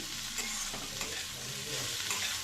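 Cauliflower and onion frying in oil with sesame seeds, a dense steady sizzle with light stirring scrapes, heard close and fairly soft, no voices.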